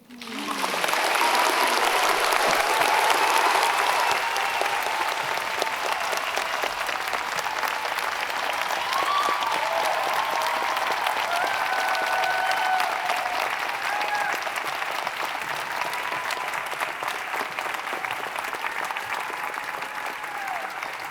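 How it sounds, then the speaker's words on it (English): A large commencement ceremony audience breaks into loud, continuous applause that swells quickly and holds for about twenty seconds, a dense wash of clapping with faint crowd murmur beneath. "Let's have one more round of applause."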